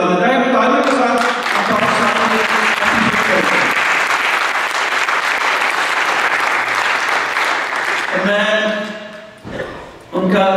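Loud, sustained applause from an audience at a religious gathering honouring someone's thirty years of faithful service. It builds quickly and holds steady for several seconds, then fades, and a voice speaks before and after it.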